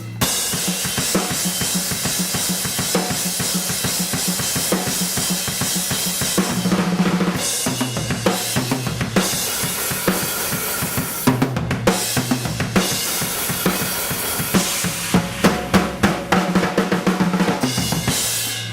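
Full drum kit playing a rock main groove, then a fill and a tag section, with steady kick, snare and crashing cymbals, loud, dense and close throughout.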